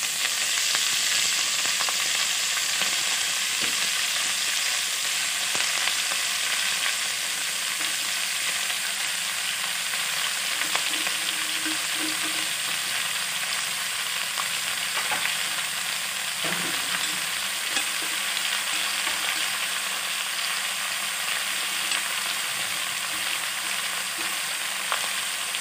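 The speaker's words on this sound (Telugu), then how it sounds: "ఇప్పుడు కడిగి శుభ్రం చేసుకున్న తోటకూరని వేసుకుందాం" Amaranth leaves (thotakura) fry in a hot pan with a steady, close sizzle that runs throughout, while a spoon stirs them with occasional scrapes and clinks; no one speaks.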